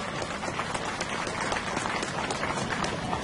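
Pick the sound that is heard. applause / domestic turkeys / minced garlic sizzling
applause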